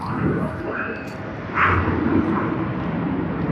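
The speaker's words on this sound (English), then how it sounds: "we did capture a bit of the planes over there" Aircraft at Sydney Airport, a steady broadband roar of engines heard from a distance with a brief swell partway through, while people talk nearby.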